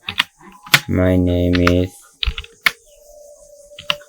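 Rapid keyboard typing while entering text into PowerPoint, a quick burst of close, crisp keystrokes between short stretches of spoken words.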